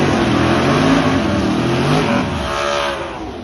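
A Fox Body Notchback Mustang makes a drag racing pass, its engine roaring loud and continuous before fading slightly toward the end.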